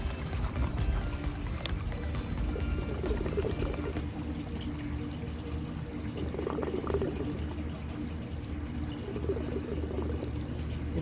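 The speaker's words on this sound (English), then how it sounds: "It's sucking in air right now, trying to break the siphon." An aquaponics siphon gulps and slurps as it sucks in air while water keeps flowing and trickling, a continuous close gurgling with a steady background hum and no talking.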